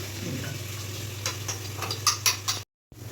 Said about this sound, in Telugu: పుదీనా వేసి ఫ్రై చేస్తున్నారు